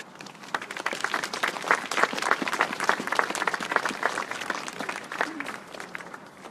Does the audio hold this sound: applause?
yes